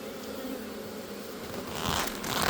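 Honeybees from a transferred swarm fan their wings at the hive entrance, giving a steady close buzzing hum that swells and grows louder toward the end.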